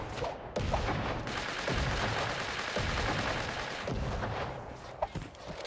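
Bursts of gunfire and a grenade blast in the battle-royale game Creative Destruction, with rapid shots and booms, loud and close, and no talk.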